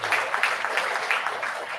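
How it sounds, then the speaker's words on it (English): A campus lecture audience gives a round of applause, a short burst of dense, even clapping filling the hall for under two seconds. "So we give him a round of applause"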